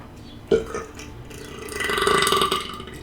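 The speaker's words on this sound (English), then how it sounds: "I'm burping fast is the problem." A single loud, gurgling burp erupts abruptly from a man during a casual Dungeons & Dragons session, stretching into a drawn-out, croaky belch that tails off after a couple of seconds.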